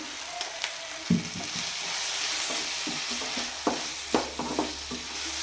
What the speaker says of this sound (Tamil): மஞ்சள் தூள் சேர்த்து நல்லா கலந்து விட்டுட்டேன்